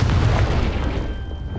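A Confringo blasting spell in Hogwarts Legacy on Switch detonates with a deep, loud boom close by, its rumble trailing off over a second or so.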